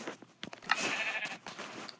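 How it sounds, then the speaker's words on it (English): Sheep bleating in a video game, one short wavering bleat with a few soft clicks and game sounds around it, fairly close and quiet, with no talk over it. "Let's shear this sheep for some extra wool."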